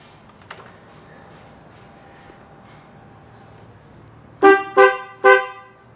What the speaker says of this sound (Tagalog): So sa busina, try natin busina, no?